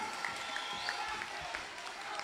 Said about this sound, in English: give them a tremendous round of applause for standing for unity